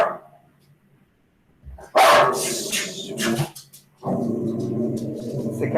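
A pitbull barks loudly in two close bursts of rough, overlapping barks, separated by short pauses, heard indoors near the microphone.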